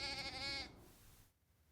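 A sheep gives a single short, nasal bleat that fades quickly into quiet.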